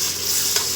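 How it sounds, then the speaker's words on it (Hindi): Tomatoes and chickpeas frying and being stirred in a pan for a Lahori chana dish, a steady close sizzle with a brief scrape of the spoon near the end. "अभी 3 मिनट तक भूनेंगे।"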